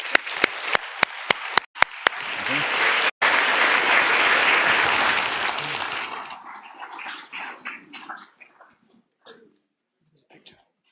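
Hearty applause from a live audience after a panel conversation swells for several seconds with a few sharp claps at the start, then thins out into scattered claps and fades to quiet, with a voice speaking over it.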